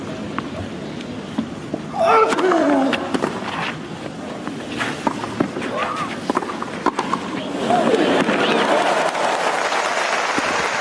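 Tennis crowd applause at Roland Garros after a passing shot by Rafael Nadal in his 2007 match against Novak Djokovic, a steady patter of clapping rising and swelling under commentary.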